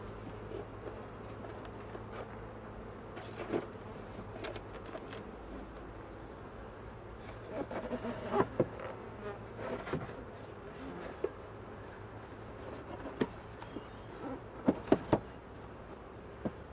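Honeybees hum in a steady low drone around an opened hive during an inspection, fairly faint, with scattered clicks and knocks of hive parts being handled.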